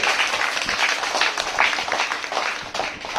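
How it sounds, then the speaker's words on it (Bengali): Students in a classroom clap loudly together during a maths lesson, a dense, continuous patter of many hands that barely fades over a few seconds. "জোরে হাততালি দিবে তো"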